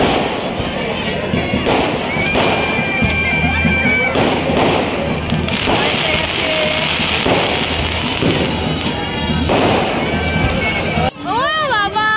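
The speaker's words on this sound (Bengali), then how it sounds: "অনেক বাজি খাচ্ছে, অনেক বাজি খাচ্ছে।" Fireworks and firecrackers bursting repeatedly at a crowded wedding, with thumps and crackles running throughout under the noisy babble of guests, and a rising whistle near the end.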